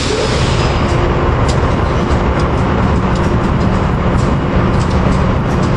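A CSX freight train rumbles past close by, its wheels clattering continuously with faint squeals above a heavy low roar, loud and without speech.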